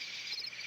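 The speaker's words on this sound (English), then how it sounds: "Grasshopper. Grasshopper." A grasshopper chirps in tall grass with a steady, continuous high buzzing trill, close and fairly quiet, with no other sounds.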